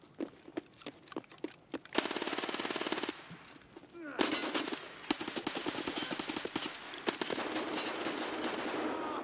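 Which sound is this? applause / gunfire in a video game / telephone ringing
gunfire in a video game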